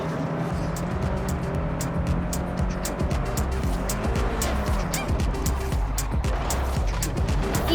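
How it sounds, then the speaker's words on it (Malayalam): A Bugatti drifts in Forza Horizon 5, its engine droning steadily while tires squeal in wavering, sliding tones, loud and continuous with no pauses. "ഈ കോണിച്ചക്ക് നല്ല ഡ്രിഫ്റ്റ് കേട്ടോ"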